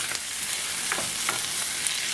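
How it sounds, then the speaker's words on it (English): Bacon frying in a pan until crispy, a steady close sizzle and crackle with a few soft stirring scrapes, no voices. "I just want to get the bacon nice and crispy"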